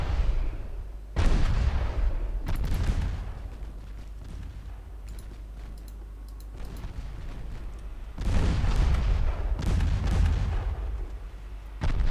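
Naval gunfire in the warship game Ultimate Admiral Dreadnoughts, heavy booming salvos in separate bursts, several close together near the start and a sustained rumbling volley later, over a low background rumble.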